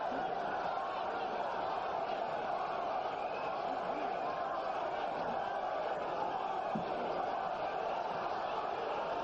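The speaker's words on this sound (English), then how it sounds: "You can hear the crowd now start to chant, Berbick, Berbick." A boxing arena crowd at a Larry Holmes versus Trevor Berbick fight chants Berbick's name, a dense, continuous roar of many voices filling the space at an even level throughout.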